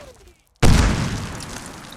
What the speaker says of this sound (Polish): Ludzie mi przed twarzą wybuchli.